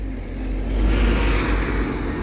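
A bus pulls away from Regent Centre Interchange, its engine rumbling deep and loud as it swells, then holds at a steady drone nearby.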